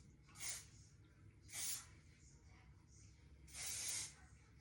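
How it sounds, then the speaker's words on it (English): Hairspray hisses from an aerosol can onto the back of a hair bun, three short bursts with the last one longer, each quite close over a quiet low room hum. "So I'm going to spray the back some."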